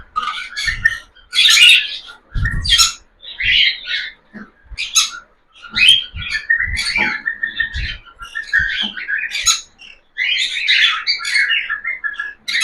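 Cockatiels in a breeding setup with new nest pots give loud, close squawks and bright chirps in quick irregular bursts, with short pauses between calls.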